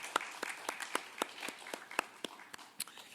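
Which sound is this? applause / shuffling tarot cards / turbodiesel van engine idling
applause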